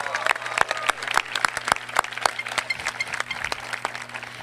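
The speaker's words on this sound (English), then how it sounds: "Could we give Lucas another round of applause?" At the 2017 Woonsocket High School graduation ceremony, an audience claps in a rhythmic round of applause, sharp and fairly close, thinning toward the end.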